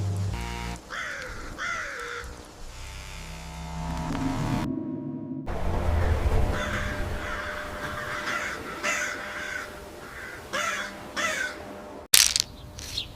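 Several crows caw in repeated harsh calls, loud and near, some in quick pairs, over a low rumble of traffic.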